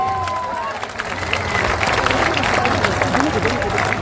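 An audience breaks into loud, sustained applause welcoming Manoj Bharti at a public gathering, the clapping swelling after a brief voice and continuing with crowd murmur.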